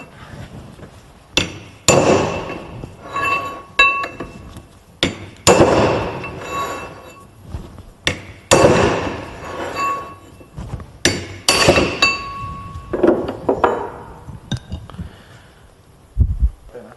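Sharp metallic hammer blows and clinks ring out as a hammer and lever knock the bearing ring off a rear brake drum of a Peugeot 206, struck in irregular bursts with ringing decay between hits.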